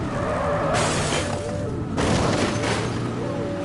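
Gunfire during a vehicle chase in the police video game The Precinct: dense, continuous volleys of shots and crashing noise, with two stronger bursts of impact, all loud and close.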